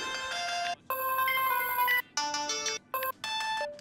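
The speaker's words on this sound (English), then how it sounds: "Settings. Ringtone." A cell phone ringtone from Grand Theft Auto V plays as a bright, melodic electronic tune in short repeated phrases with brief gaps, loud and clear with no talking over it.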